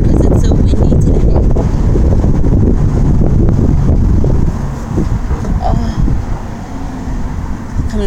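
Strong wind buffets the microphone with a loud, continuous rumble that eases slightly partway through.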